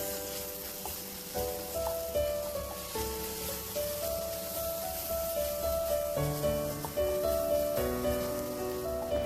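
Spices and vegetables for a mixed vegetable curry sizzle steadily in a hot pan, a continuous close frying hiss with occasional stirring scrapes and no talk.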